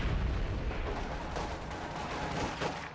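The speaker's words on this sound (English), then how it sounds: "there is a mortar on the field to try and bombard them" Mortar bombardment and machine gun fire in the Company of Heroes 2 battlefield, a dense continuous roar of distant booms and rattling gunfire without a break, no voices.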